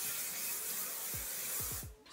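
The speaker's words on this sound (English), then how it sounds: "spray down my hair while simultaneously scrunching it" Aussie Mega flexible-hold hairspray hisses in a continuous close spray onto hair for about two seconds, ending abruptly, with a few soft low thumps near the end.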